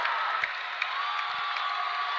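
A dense, steady crowd roar fills a gym at a 7th grade boys basketball state final between Oglesby Washington and Effingham St. Anthony, with scattered whoops and cheers rising briefly above the constant noise.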